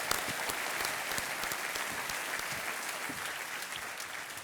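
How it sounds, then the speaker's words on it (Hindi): A studio audience on the Hindi quiz show KBC claps steadily in a dense, sustained round of applause that carries evenly through to the end. "सब लोग तालियां बजाएं"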